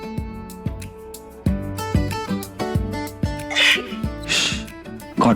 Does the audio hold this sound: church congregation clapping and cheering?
no